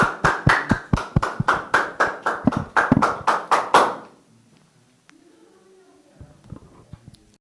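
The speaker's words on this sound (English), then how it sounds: "Let's clap for him." An audience claps for a speaker at a student election manifesto reading, starting with about a dozen loud, rhythmic, unison claps. The clapping stops abruptly after four seconds, leaving faint room noise.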